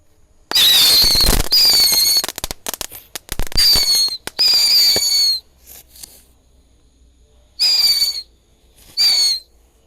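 Ground spinner firecrackers, called tikusan, lit at night during Ramadan, spinning with loud shrill whistling screeches in several close bursts, crackling pops between them and quiet gaps.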